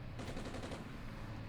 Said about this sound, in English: As you can see, already opening fire on our tank.